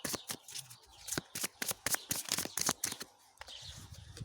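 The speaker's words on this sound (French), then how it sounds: "Je vais tirer 3 cartes pour voir" Tarot cards shuffled and drawn by hand, a quick run of sharp papery flicks and slaps in irregular bursts, close and fairly loud, with a soft rustle near the end and no talking.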